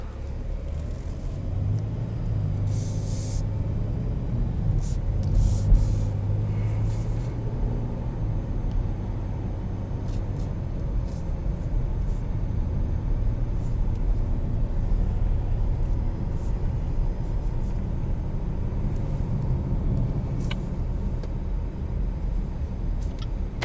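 Cabin of a 2020 Chevrolet Blazer RS with a V6 on the move: a steady low engine and road rumble fills the interior throughout, with a few light clicks and rattles on top.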